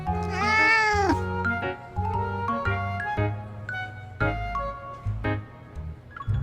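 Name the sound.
cat meowing in video game Love and Deepspace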